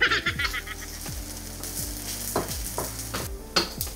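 Onion and garlic sautéed together in a pan over medium heat, a steady sizzle broken by repeated spatula scrapes and knocks against the pan, close and moderately loud.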